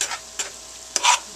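Dry turkey stuffing being stirred and fluffed with a spoon, heard as a few brief, close scraping strokes separated by short quiet gaps.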